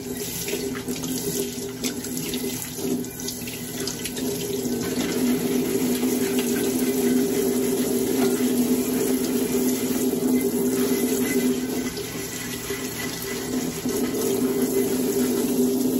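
Cold water runs steadily from a kitchen tap while a clay pan lid is rinsed, a constant close splashing stream with slight shifts in tone as the lid moves under it.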